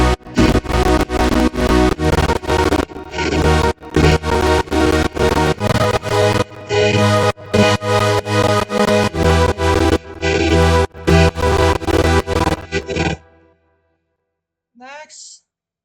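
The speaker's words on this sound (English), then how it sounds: "Next up, the second one of pad." A second synth pad part for an FL Studio electronic track, sounding as loud chords chopped into a steady pulsing rhythm with short gaps, then stopping abruptly, followed by a faint isolated blip.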